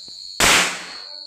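A Diwali firecracker lit by hand bursts once in a single loud, sharp bang close by, its crack decaying quickly after a quiet lead-in.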